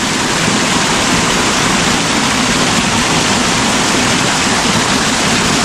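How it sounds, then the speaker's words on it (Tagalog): Powerful, roaring rush of water, loud and constant with a dense hiss and no pauses. "Napakalakas po ng tubig dito"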